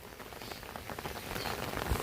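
Rain falls steadily, a soft hiss of drops that grows slightly louder toward the end, with no voices.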